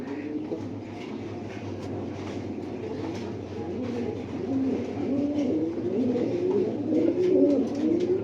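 Budapest pigeons coo in repeated soft, throaty phrases, growing louder toward the end, over a low steady background hum.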